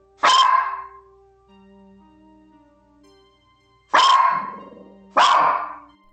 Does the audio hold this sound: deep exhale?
no